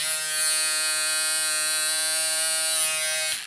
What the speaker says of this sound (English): I'm gonna go ahead and turn it on for y'all again.